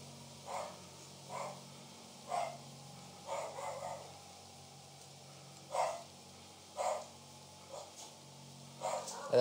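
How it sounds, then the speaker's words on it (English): Several dogs bark in the woods of the video game Slender's Woods, with short, fairly distant barks at irregular intervals over a faint steady hum. "If you hear dogs barking, just ignore them. They bark at nothing and it gets ridiculous."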